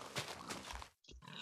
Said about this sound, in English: I found some pigs.